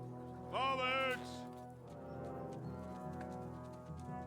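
Horse hooves clip-clopping in the medieval video game Kingdom Come: Deliverance II, with a horse whinny near the start and soft, steady hoof falls under game music and ambience.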